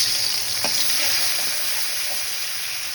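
A ground spice paste sizzles steadily in hot oil in a pan while cooking a potol and potato curry, with a loud, continuous close frying hiss and a few faint stirring scrapes.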